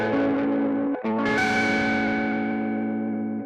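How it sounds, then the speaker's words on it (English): A sustained synth patch run through tape saturation distortion, thick and buzzy with rich overtones, breaking off briefly before swelling back in and holding a long loud chord. "It's a really unique form of nonlinear distortion."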